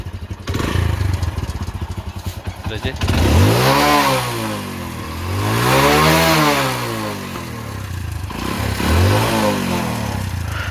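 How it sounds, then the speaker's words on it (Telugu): A motorcycle engine runs after gas welding on its silencer at a village mechanic's shop, starting up and rising and falling through several revs, loud and close, with someone talking over it at times. "ఇప్పుడు నేను బండి అయితే స్టార్ట్ చేసిన ఒకసారి సౌండ్ వినండి"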